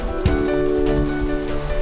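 Strong sea waves and currents surge around Dokgodo island in a dense wash of churning water, with rushing swells and splashes rising and falling close by, no voices.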